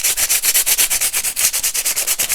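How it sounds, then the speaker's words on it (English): A dollar-store nail file sanding the edges of a glassine bag, loud close rhythmic rasping strokes in quick even succession, about eight per second, with no voices. "this is just a nail file I got from the dollar store"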